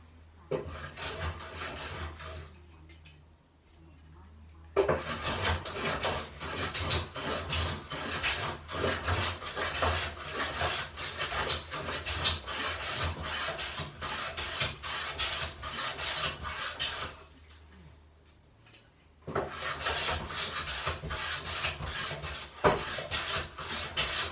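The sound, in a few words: hand planing timber to take the minimum off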